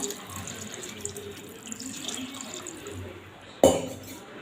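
Water pours steadily into a pan with a soft rushing sound while cooking mutton liver pepper fry, then a sudden sharp clank of a pan or utensil near the end.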